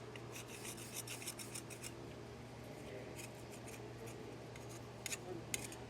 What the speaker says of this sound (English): I'm gonna get some of this dirt scraped off of here.